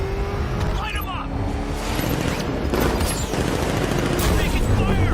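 Bursts of gunfire from the game Batman: Arkham Knight, loud and dense, layered over a roaring vehicle engine and busy combat noise, with shouting voices mixed in.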